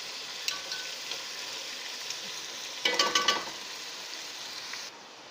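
Chicken pieces for Afghani chicken fry in a pan with a steady, close sizzle, swelling into a louder crackling burst midway as they are stirred and turned, with no talking.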